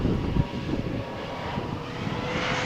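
A TUI passenger airplane at Malaga Airport on a stormy morning roars steadily with a loud, broad engine rumble that holds throughout and swells slightly early on.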